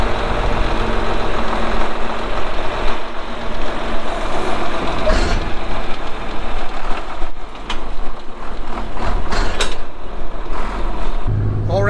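A farm tractor's engine rumbles steadily as it drives off a trailer during unloading, with a continuous loud, broadband drone and some clanks throughout.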